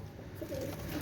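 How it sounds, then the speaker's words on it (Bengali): A pair of Oman Teddy master pigeons coos softly in a low, throaty murmur, faint and somewhat distant, with a couple of rolling coo phrases over a steady background hum. "দেখেন ভিউয়ার্স, অসাধারণ কবুতর"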